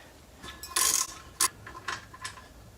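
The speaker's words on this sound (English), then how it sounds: "Then we can remove the retainer bolts." A hand ratchet loosening the brake caliper retainer bolts on a Toyota 4Runner's rear brakes: a few short metallic clicks and clanks, close and fairly quiet, in separate bursts with no talking.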